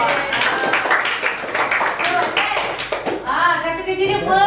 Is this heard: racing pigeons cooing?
no